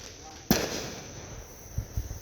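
Fireworks going off outdoors at a backyard firework show: one sharp loud bang followed by a crackling tail and a few softer distant pops, with people talking in the background.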